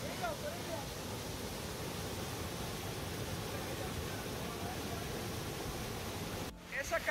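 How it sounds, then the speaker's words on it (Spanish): Second cascade of Arroyo Cercado, a broad steady rush of falling water heard close and continuous, with a voice speaking over it near the start and a brief break near the end. "La segunda cascada de Arroyo Cercado."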